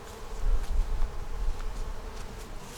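Honey bees buzzing steadily at a hive holding a two-frame nuc with a white-marked queen and a top box full of eggs, brood and stores; a close, continuous droning hum with no voices.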